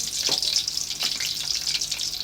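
Onions dropped into hot oil for aloo gosht, a close, steady crackling sizzle with a few stirring scrapes.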